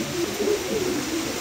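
Pigeon hens give a steady, rolling coo close up, repeated in a smooth, warbling run that fills the whole brief moment.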